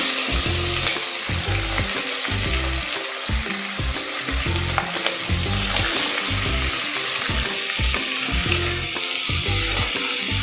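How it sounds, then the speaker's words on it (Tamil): Onions and green chillies sautéing in a pan for vegetable biryani, a loud, close, continuous sizzle with rhythmic stirring strokes throughout and no voices. "வெங்காயமும் பச்சை மிளகாயும் போட்டிருக்கோம். நல்லா வதக்கிக்குவோம்."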